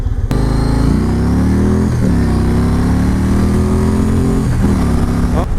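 A Yamaha Raider motorcycle engine rumbles loudly and steadily close by, its pitch rising and falling as it revs and accelerates.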